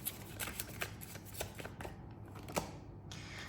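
Tarot cards being shuffled by hand in quick riffling bursts, crisp flicks and slides repeating close up for a few seconds with no talk.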